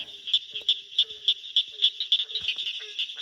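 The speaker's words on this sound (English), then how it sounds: "There is a barking tree frog right there in the middle of your screen." A tree frog calls close by, repeating short barking notes at a quick, steady rhythm with no one talking.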